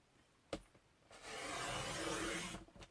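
A paper trimmer's arm is pulled out, and then a blade draws along its track with a rough, sustained rubbing slide lasting over a second, after a sharp single click.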